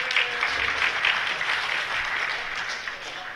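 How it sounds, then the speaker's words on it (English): Audience applause in a hall at a lockpicking and locksmithing talk at a security conference, a steady sustained clapping from a crowd that holds for several seconds and tapers slightly at the end. "Ah, the guilt applause."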